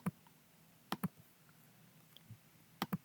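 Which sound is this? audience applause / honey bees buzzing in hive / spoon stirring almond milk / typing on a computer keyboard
typing on a computer keyboard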